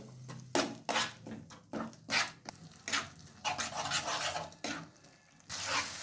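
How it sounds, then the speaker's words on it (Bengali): A spice paste with tomato paste frying in a pan for matar paneer, with repeated spoon scrapes and clinks against the pan over a soft sizzle. "এরপর আমি আবারও মশলাটাকে ভালোভাবে কষিয়ে নিচ্ছি"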